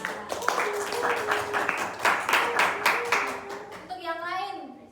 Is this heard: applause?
yes